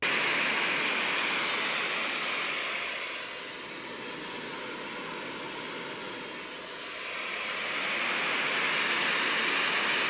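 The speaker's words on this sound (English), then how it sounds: "Now we're going to go a little bit deeper into the polar pattern with a white noise test." White noise plays as a test signal into a FiFine K678 USB microphone, a loud steady hiss that dips noticeably in level midway as the source moves around the pickup pattern, then swells back up, with no talking.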